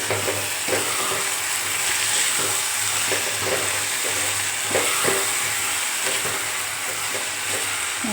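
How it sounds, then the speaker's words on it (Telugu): Chopped garlic sizzling and frying loudly in a pan with tomatoes and onions for a prawn curry, with a steady hiss and the scrape of stirring throughout, no talk. "వెల్లిపాయలను వేసిన తర్వాత బాగా మిక్స్ చేసేసుకుందాం"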